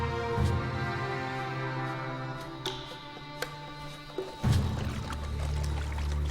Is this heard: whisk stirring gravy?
no